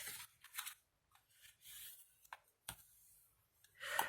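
Craft knife blade cutting through cardboard in a few scraping, rasping strokes with quiet gaps between them, close and soft.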